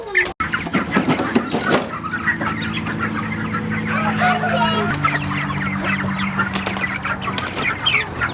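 Cornish cross meat chickens clucking and calling on grass pasture, a busy overlapping chorus of clucks close by, with steady tonal calls and occasional wing flaps throughout.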